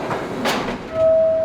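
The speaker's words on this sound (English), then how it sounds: "We're on the 1 train at the moment" Ride aboard a New York City 1 subway train between Midtown and downtown: steady rumbling car noise with clatter and a burst of rushing sound, then a sustained high brake-like squeal toward the end.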